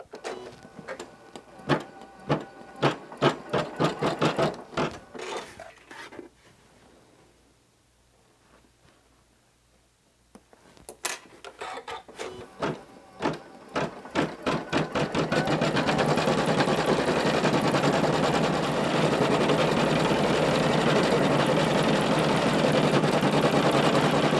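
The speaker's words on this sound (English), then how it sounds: "I've got my machine threaded with blue now, so we're going to stitch out the rest of this design" An embroidery machine stitching a flower design in blue thread onto soap runs in fast, rattling bursts, pauses briefly near the middle, then settles into a loud, continuous mechanical whir.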